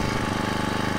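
A two-stroke string trimmer engine, stored for a long time, runs steadily close by in a warm-up idle around 2,000–3,000 rpm, with a buzzy, rapidly pulsing drone and no voices.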